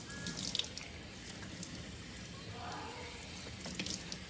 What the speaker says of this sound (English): Turn your head so I can get this water off you.